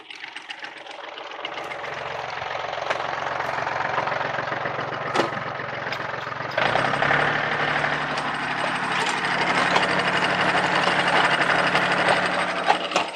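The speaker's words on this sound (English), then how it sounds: "So we're going to auger this down." Auger boring a post hole for a pole barn into rocky ground, a steady loud mechanical grind and engine drone that rises to a heavier, rougher churn partway through.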